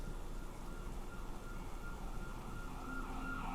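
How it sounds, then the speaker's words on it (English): Emergency vehicle siren wailing steadily through the whole stretch over constant traffic rumble, a continuous rising and falling tone at moderate distance with no talking. "Got sirens right here."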